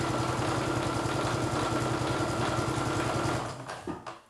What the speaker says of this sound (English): I'm just going to run those long stitches all the way round the curve at the top of that sleeve cap.